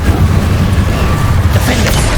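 Repeated magic spell blasts from Incendio and Confringo in Hogwarts Legacy, a steady run of booming bursts with low rumbling energy and no spoken voice.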